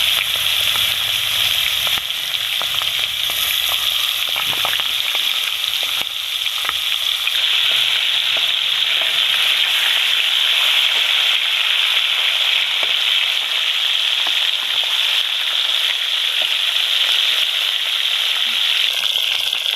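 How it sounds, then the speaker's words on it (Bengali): Bhangan fish frying in hot oil for a Bengali oil-and-chilli fish curry, giving a loud, steady sizzle that holds the whole time, with faint scattered spatter crackles and no talking. "তেলটাও গরম হয়ে গেছে এবার মাছগুলো আমি ভেজে নেব"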